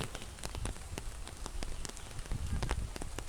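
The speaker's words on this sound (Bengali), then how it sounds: "অবশেষে বৃষ্টি হইতেছে" Rain falls steadily in hot weather, pattering on a surface with scattered crisp drop hits and a low rumbling wash underneath, continuous and fairly close, with no voices.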